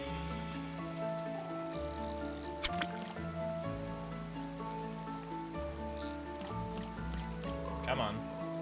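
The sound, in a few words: rain in the video game Grimshire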